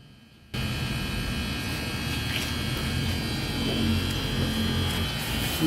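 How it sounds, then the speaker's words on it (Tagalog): Alternator with a noisy bearing, spinning with a steady, loud mechanical hum and grinding whir that starts abruptly and continues evenly, with no talking. "Maingay ang bearing."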